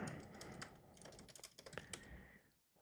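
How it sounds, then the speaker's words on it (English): Typing on a computer keyboard, rapid irregular key clicks at close range at a very low level, tapering off at the end. "Try typing in a movie."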